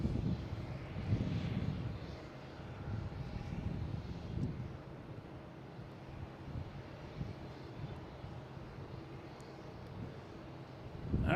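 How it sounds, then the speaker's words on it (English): A Swiss airliner takes off at Boston Logan airport, its jet engines a faint, distant rumbling roar that swells and fades under light wind noise. "we got Swiss taking off"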